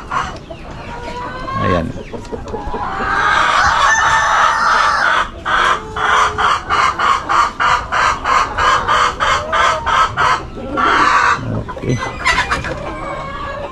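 Hens ready to lay cluck constantly on a poultry farm while roosters crow in long, repeated calls. The birds are loud and close and form a dense flock chorus, and a person speaks only briefly.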